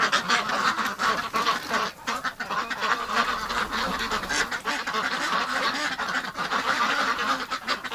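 Ducks quack and geese honk in a busy, overlapping chorus on a farm in cold winter weather, calls coming close and constant with only brief pauses.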